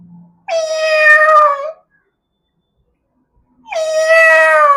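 A voice imitates a cat with two drawn-out, loud meows separated by a short silence.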